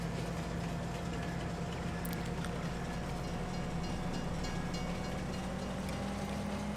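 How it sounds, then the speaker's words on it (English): A train rolls along steadily in Farming Simulator 22 carrying grain, a continuous engine drone and rail rumble with a faint click, no talking over it. "We'll just take a minute to enjoy the train ride."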